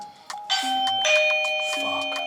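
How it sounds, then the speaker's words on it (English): A doorbell rings with two clear electronic chime tones, then repeats the ding-dong pattern, ringing out alone and fairly loud. "Doorbell."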